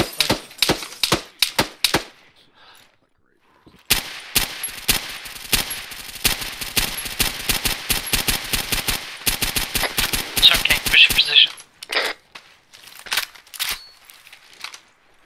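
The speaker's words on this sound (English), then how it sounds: "I saw gunshots coming from up the top." Rapid bursts of gunfire in the video game ARMA 3, a few single shots, then a long sustained automatic volley before scattered shots trail off.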